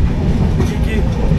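A train runs on a jungle rail line in the Dooars, between Assam and North Bengal, with a loud, continuous, heavy rumble of wheels on track heard close up from on board.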